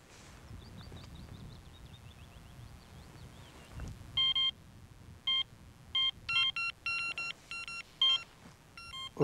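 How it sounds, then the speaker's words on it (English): An electronic carp fishing bite alarm emits a series of sharp, clean electronic beeps in irregular bursts, close and fairly loud over faint outdoor background noise. "Electronic bite alarm."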